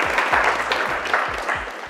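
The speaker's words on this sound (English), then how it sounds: "Let's give another round of applause for side opposition." Steady crowd applause at a British Parliamentary-style campus debate, a brief even wash of clapping with faint voices murmuring underneath.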